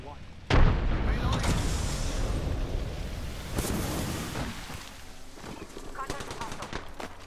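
A frag grenade detonates in a video game shooter with a sudden heavy boom, followed by a dense rumble of rapid gunfire and impacts that carries on to the end, with a voice speaking over it.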